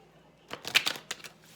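A tarot card deck is shuffled once, a short, close burst of quick riffling flicks lasting under a second, with no voices.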